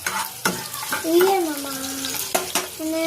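Food is mixed in a sizzling pan with scraping stirs and light clatter, up close, while a voice sounds intermittently over the cooking noise.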